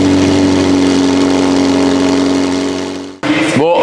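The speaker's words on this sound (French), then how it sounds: "ça pourrait être sympa quand même d'entendre chanter ces deux petits échappements" A luxury car's twin exhausts roar loudly at high revs, fade briefly, then rev again with a rising pitch sweep. The sound is close and dominant.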